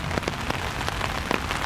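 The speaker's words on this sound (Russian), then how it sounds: "Дождь идет, парк." Steady rain falls in a park and patters densely and evenly on nearby surfaces, with scattered drops tapping close by and no voices.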